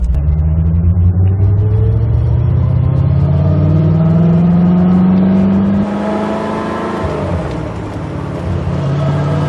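A Chevrolet Corvette C4 with a modified exhaust rumbles loudly, its engine note rising steadily under acceleration for several seconds, then settling into a lower, steadier drone.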